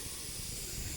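A pressure cooker vents steam in a steady, loud, close hiss with no pauses or voices.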